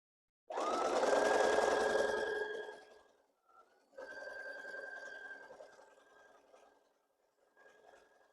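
A sewing machine fitted with a walking foot runs a seam through flannel blanket strips, giving a smooth whirring hum that fades out, then a second, quieter run of stitching and a faint final burst, all close and free of talk.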